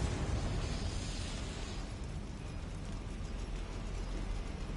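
A Confringo spell blast in Hogwarts Legacy, a dense, roaring burst of broadband noise that sustains for several seconds at steady loudness, with no talk over it.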